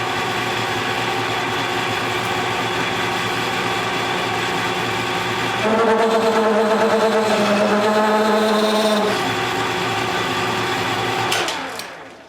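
Metal lathe running with the cutting tool on a quick change tool post, a steady mechanical hum that turns into a louder rattling, buzzing chatter for a few seconds mid-cut before the machine winds down.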